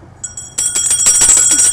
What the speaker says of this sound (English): Mark, you ring the bell.